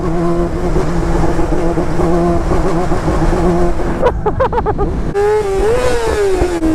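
A motorcycle engine with cable-driven throttle bodies drones loudly and close, then snaps through quick revving blips as the throttle is opened and closed.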